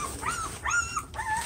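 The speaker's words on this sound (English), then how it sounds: "Look at these beautiful puppies" Two-week-old puppies whimper and yip in short high-pitched cries, several rising and falling whines close to the microphone in quick succession.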